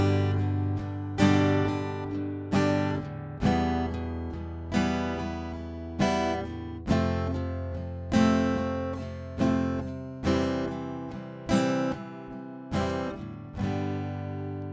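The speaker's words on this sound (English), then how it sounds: "we're going to add a little bit more accenting, a little louder strum on beat 1" Rhythm guitar strummed in a steady pattern, with some strums hit louder than the rest on beats one and four. Each accented strum rings out clearly and decays before the next one lands, played alone with no talking.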